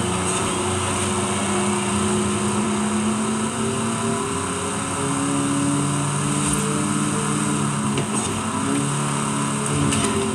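A Fiat car engine in Forza Horizon 5 drones steadily and loudly throughout, its revs holding mostly even with a few slight rises, with no talk over it.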